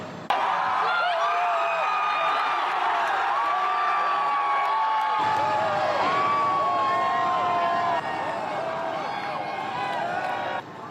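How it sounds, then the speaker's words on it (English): A large crowd at a bar cheers and whoops for the Stanley Cup champion Carolina Hurricanes, loud and sustained throughout with shouting voices mixed in. "Look at that massive crowd, everyone with their phones out to capture this unforgettable moment."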